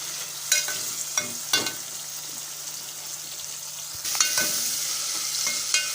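Tomato mixture for Schezwan chutney sautéing in a pan, a gentle continuous sizzle punctuated by several sharp stirring clinks and scrapes, close by with no talking.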